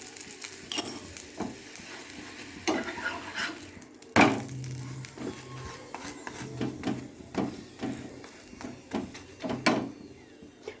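Sattu paratha cooking on a hot tawa, with soft, faint sizzling and scattered light scraping or pressing taps spread unevenly across the clip, one sharper knock partway through.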